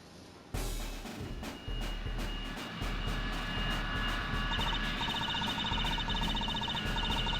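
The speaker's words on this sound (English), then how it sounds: "Here he comes, the presidential plane descent." A presidential airplane descends in the Ace Attorney Investigations 2 video game, a broad jet roar that swells in after a quiet start and holds steady and loud, with a faint high electronic tone layered on top.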